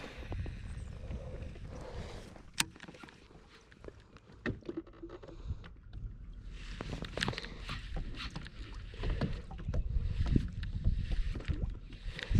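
A fishing boat running across Hubbard Lake, its engine a steady broadband rumble with water and wind noise throughout the run, fairly close and continuous with no talk.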